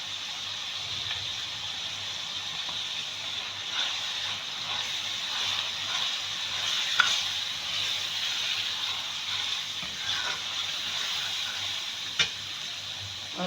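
Mungre keema frying with turmeric, home-ground chilli and salt, a steady close sizzle and hiss with occasional scraping stirs of a spoon through the pan.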